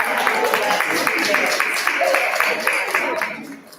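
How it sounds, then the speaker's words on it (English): A conference audience gives a round of applause, with steady, moderately loud clapping from many hands and faint voices underneath, fading out at the end. "let's give Alice a round of applause"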